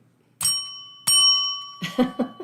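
A bell rings twice with long, bright, sustained tones, then several quicker, duller strikes follow in a rapid cluster.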